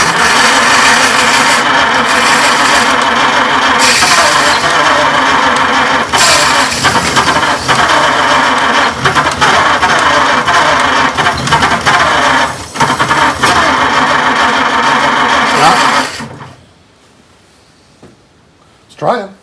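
A 1926 Oakland antique car engine cranking and sputtering as someone tries to start it after decades unused, a loud continuous churning run that cuts off, with voices talking over it.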